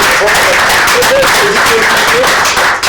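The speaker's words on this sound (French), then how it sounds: "Vous pouvez vous applaudir et vous remercier." Loud studio audience applause fills the whole span, dense and continuous, with voices and cheering mixed into the clapping throughout.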